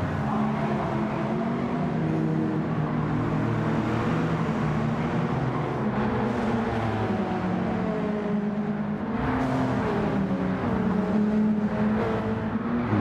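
A 1998 Honda Civic Type R EK races in Gran Turismo 7, its engine droning steadily with rising and falling pitch through gear changes, loud and continuous from start to finish with no talk.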